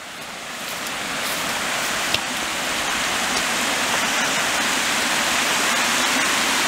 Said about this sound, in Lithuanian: O, blemba, jau stipriai lyja.